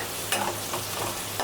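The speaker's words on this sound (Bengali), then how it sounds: "অবশিষ্ট তেলগুলো ছিল এখানে দিয়ে দিব পেঁয়াজ কুচি" Chopped onion goes into leftover hot oil in a pan, giving a steady soft sizzle with a few light stirring scrapes at intervals, close and fairly quiet with no talking.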